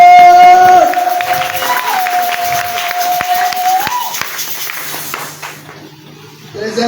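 A church congregation applauding and cheering, loud clapping and crowd voices at first with a sustained sung or shouted tone, then thinning to sparse claps and a quieter room before a final swell.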